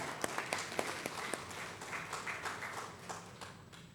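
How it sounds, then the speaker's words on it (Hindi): An audience at a village launch event applauds, starting with a few sharp individual claps that merge into a brief, moderately distant round of clapping before fading. "एक बार जोरदार तालियां"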